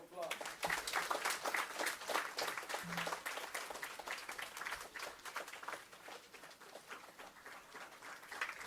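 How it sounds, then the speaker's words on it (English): Audience applauding at an academic conference ceremony, steady dense clapping from a full hall sustained throughout, with brief voices mixed in. "Come on, give a big round of applause."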